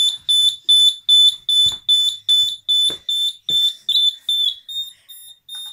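A fire alarm panel gives a steady run of sharp, high electronic beeps, evenly spaced and close, about fourteen in a row, with faint clicks underneath and no talking, signalling a power supply fault.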